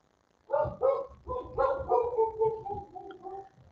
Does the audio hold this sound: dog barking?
yes